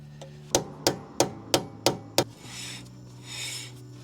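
Screwdriver tapping a socket onto a car driveshaft while replacing an inner CV boot, six sharp metallic taps in a steady rhythm, close and loud, then a soft rubbing scrape.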